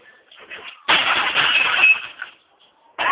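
The glass screen of a TV smashes in one loud, close crash that lasts about a second, with softer scraping before it and a fresh burst of breaking glass right at the end.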